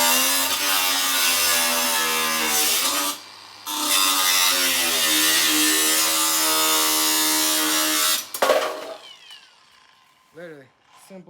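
A power tool whines loudly and steadily while cutting into a metal weight plate, pausing briefly partway through, then stopping with a clank and a few faint handling sounds after.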